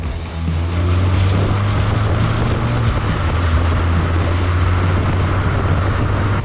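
An Alfa Romeo MiTo drives through heavy rain on flooded roads, its engine a steady low drone beneath continuous broadband road and water spray noise throughout, with no talking.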